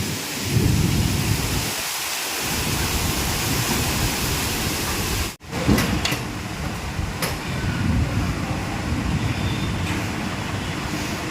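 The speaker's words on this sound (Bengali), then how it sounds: "দেখেছেন ঝড় উঠেছে কিরকম, বুঝতে পারছেন?" Heavy rain pours steadily while deep rumbles of thunder roll through, with one brief sharp crack partway through.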